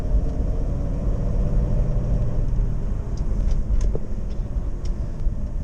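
A 1977 Pontiac Trans Am on the road, its engine and tire roar a steady, loud broadband drone from inside the car, with faint ticks and rattles riding on top and no voices.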